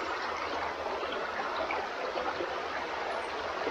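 Water streams steadily through Kendis Cave in Pagadian City, a broad, even rushing wash that holds at a constant level throughout with no talk over it.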